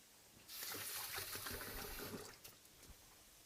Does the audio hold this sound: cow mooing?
no